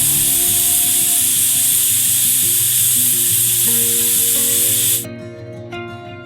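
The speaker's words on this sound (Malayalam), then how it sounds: "നമുക്ക് കുക്കർ അടച്ചൊരു 3 വിസിൽ വരെ ആവാം" A pressure cooker whistles and hisses steadily while papaya cooks inside, a loud continuous jet of steam that cuts off sharply near the end, leaving a quieter kitchen hum.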